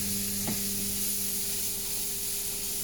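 Mushrooms sweating in a hot pan, a steady loud sizzle and hiss with a brief stir near the start and a low hum underneath.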